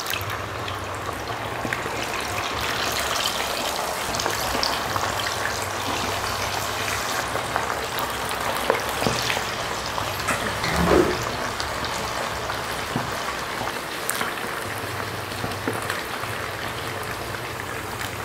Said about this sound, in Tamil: காடையை பொரிச்சுக்கலாம்.